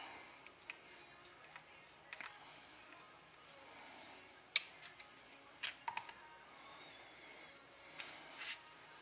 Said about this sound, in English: So when I remove this last screw, stuff could go everywhere.